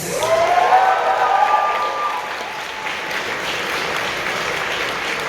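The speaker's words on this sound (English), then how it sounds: "Please give them a big round of applause." Audience applause fills a convention closing ceremony, a dense crowd clapping that starts strong with a few brief tonal sounds in the first seconds and then settles into steady, even applause to the end.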